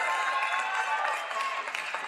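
A large audience at a motivational speech applauds, a dense, steady wash of many hands clapping heard from a distance, easing slightly toward the end.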